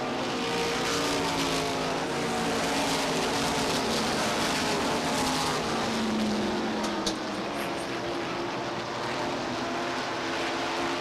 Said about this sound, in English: Battle shaping up for 2nd place, finds the cars bunched up from 2nd place right on back through about 7th spot as the cars battle for position.